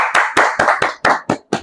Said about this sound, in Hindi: अपने लिए जोरदार ताली बजाना।